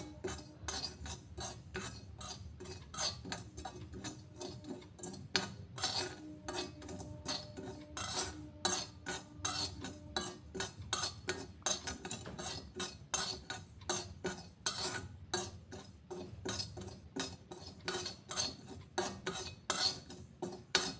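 Tea leaves and sugar fried briefly over a low flame in a kadai, stirred with a spoon that scrapes and clinks steadily against the metal pan for a long stretch, close and alone.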